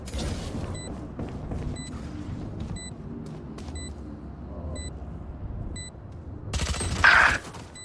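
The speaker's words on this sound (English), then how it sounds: "Shooting the gun" Gunfire in the tactical shooter Valorant after the spike is planted, with a dense bed of shots and game noise running throughout, steady beeps repeating at regular intervals, and a louder burst near the end.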